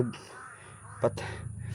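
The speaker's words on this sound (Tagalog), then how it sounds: "maraming uwak mo ano, napakadami yung uwak" A few crow caws, one louder call near the middle, heard faintly over a background hum, with no talking.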